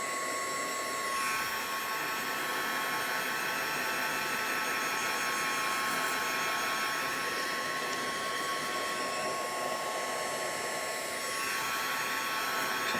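A heat tool blows steadily on an alcohol ink design with a Stampin' Blends technique, a constant close, loud hair-dryer-like whoosh of broadband air noise lasting the whole stretch with no talking.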